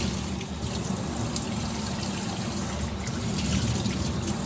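Water runs steadily as dye is rinsed from tie-dyed cotton shirts, a continuous splashing flow close by with no talk.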